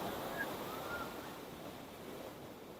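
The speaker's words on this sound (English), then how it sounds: "we have a really big swell coming in, and you're going to start to see waves" Ocean waves rolling in from a big swell, heard as a steady, loud broadband wash of surf with some wind noise and no clear breaks between waves.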